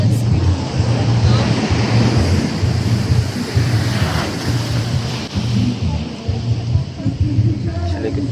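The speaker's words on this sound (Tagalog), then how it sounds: "Sa likod ko yung dagat." Rough sea surf at night on a beach at Infanta, Quezon, a steady loud roar of waves with gusty wind buffeting the microphone throughout, and a voice faintly audible beneath the noise.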